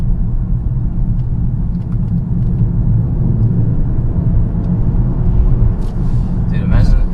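A 2020 BMW 740i accelerating in sport mode: a loud, steady low engine and road rumble that swells slightly toward the end, heard close throughout.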